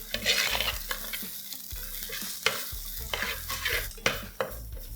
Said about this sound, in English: Now let's add the ginger, garlic, chili and onion paste. Saute this for a minute.